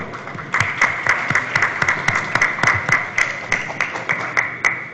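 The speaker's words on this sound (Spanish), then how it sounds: "Aplauso, por favor." An audience claps steadily and evenly, with no other sound over the applause.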